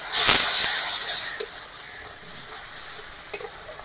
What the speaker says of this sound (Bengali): এখন মশলাটা খুব ভালো করে কষে নেবো যতক্ষণ না তেল ছাড়ছে মশলা